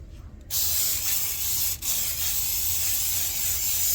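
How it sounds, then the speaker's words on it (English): Olive oil sprayed from a can into a slow cooker liner, a steady close hiss lasting several seconds with a brief break partway through. "I'm still going to use some olive oil in the bottom of this bite just for extra coating so my potatoes will not stick"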